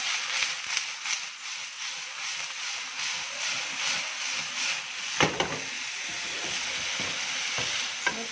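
Chicken frying in a pan with ginger, garlic and green chilli paste gives a steady close sizzle, broken by repeated scraping stirs of a spoon against the pan.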